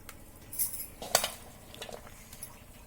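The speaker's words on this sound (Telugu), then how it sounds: "చూడండి ఇలా మంచిగా కలుపుకోవాలి" A utensil clinks against a bowl while vegetable noodles are tossed with oil, making a few light scattered metallic taps and scrapes close by, with no talking.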